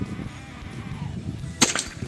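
One crisp report from a Satsus P1000 air rifle fired outdoors during a hunting test, a sudden snap followed by a short trailing knock, heard alone after quiet ambient noise.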